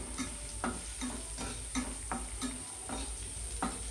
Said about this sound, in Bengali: তেলটা গরম হয়ে গেলে প্রথমেই গাজরটা দিয়ে দিচ্ছি। গাজরটাকে হালকা করে ভেজে নেবো।